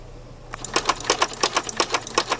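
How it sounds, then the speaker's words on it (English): Sewing machine running a straight stitch around a pillow, quiet at first, then a fast, even run of loud mechanical clacks from close by, with no talking. "I'm just going to get going doing a single straight stitch and back stitch to lock it in"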